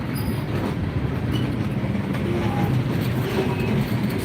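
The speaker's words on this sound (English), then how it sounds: "So they're shoving the train back." Norfolk Southern freight train being shoved back through a busy rail yard, a steady continuous rumble of rolling cars with faint wheel squeal and clicking rail joints throughout, nearby and loud, no talking.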